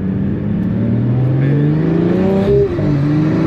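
A turbocharged car engine in a racing video game revs and climbs through rising tones, loud and close, with a brief dip before pulling again.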